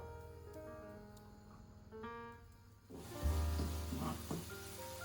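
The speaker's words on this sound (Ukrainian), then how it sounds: "Смажимо на ньому цибулю." Soft sizzle of onions frying in butter, rising partway through as the pan gets louder, with faint background tones.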